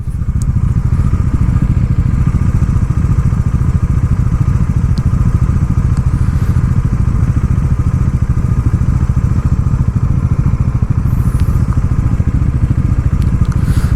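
Motorcycle engine running continuously on a road ride from Kolkata toward North Bengal, a loud, steady drone with wind rush and occasional rattles close to the mic, with no talking.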